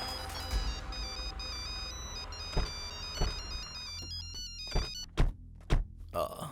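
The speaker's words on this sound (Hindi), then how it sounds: "इनका पोता फोन कर रहा है यार" A phone ringtone plays steadily for about five seconds as an incoming call arrives, a melodic electronic tone, followed by several dull thumps and a brief voice after it stops.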